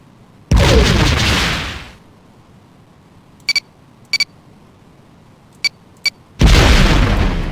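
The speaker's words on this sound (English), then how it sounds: "Torpedo away." Torpedo explosions boom in the Star Trek: The Next Generation – A Final Unity space combat game: two long, loud roaring blasts open and close the stretch, with several short sharp electronic pings between them and no talking.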